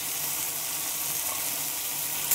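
A masala spice paste cooking down in a pan for fish paturi gives a soft, continuous frying hiss, steady and unbroken throughout.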